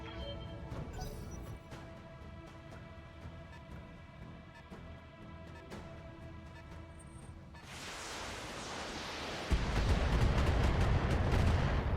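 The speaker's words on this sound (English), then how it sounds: "Kaboom! Enemy unit destroyed." Explosions and weapon fire from the BattleTech mech strategy game, a steady rumble of distant blasts and impacts building into a louder, denser roar of detonation near the end, with no voices.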